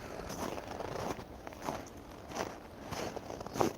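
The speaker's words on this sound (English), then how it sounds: "the only noise I can hear are my footsteps, like the crunch" Footsteps crunch on frozen ice of a pond in Helsinki, Finland, a slow irregular series of crisp crackling steps, close and fairly quiet over faint outdoor ambience.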